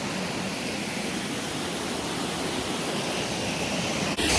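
A waterfall in the Smoky Mountains roars as a dense, steady rush of falling water, close and constant for the whole stretch, with no talking.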